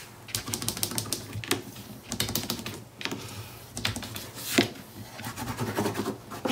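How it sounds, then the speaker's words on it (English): Bone folder burnishing paper down on a landscape 11 x 8 1/4 base album build, a steady run of close, dry rubbing and scraping strokes with brief pauses between passes. "I'm going to burnish that all down"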